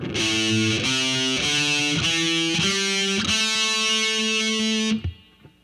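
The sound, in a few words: electric guitar pentatonic scale pattern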